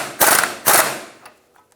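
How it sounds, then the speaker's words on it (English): A ratchet with a 19mm socket tightens the tie rod end nut on a 2000-2006 Toyota Tundra's front steering: two quick, loud bursts of rapid clicking, then a few faint metallic taps. "Using a 19mm socket, we're going to tighten down the tie rod end."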